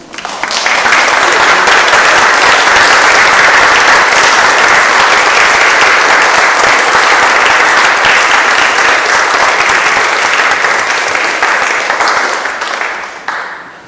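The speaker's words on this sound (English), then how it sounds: "let's give them a round of applause" Council chamber audience applauding newly elected councillors at a Wakefield Council meeting: loud, dense, sustained clapping from a large group, steady for about twelve seconds before tapering off.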